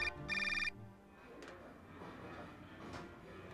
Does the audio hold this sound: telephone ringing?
yes